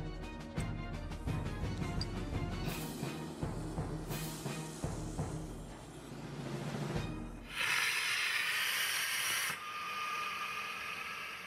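An Airbus A380 evacuation slide bag inflating with rocket gas boosting compressed gas: a loud rapid rattling, pulsing burst gives way to a sustained rushing hiss, which fades into a softer flow near the end.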